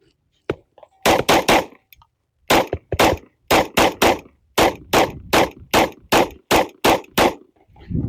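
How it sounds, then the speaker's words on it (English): Rapid mag dump from an RIA DY9 pistol fed with Glock 17 magazines, a long string of sharp, loud gunshots in quick bursts with brief pauses between groups, each crack ringing out outdoors. "We're going to try a mag dump on it."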